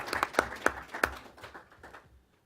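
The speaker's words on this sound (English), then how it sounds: "Some applause." Audience applause at a lecture on greenhouse gas emissions in China, a short burst of claps that peaks early and fades out within about two seconds, fairly quiet and with no talk over it.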